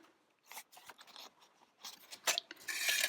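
Scissors cutting a sheet along a dotty edge, close and soft, with rasping snips that build into a denser, louder run of cutting at the end.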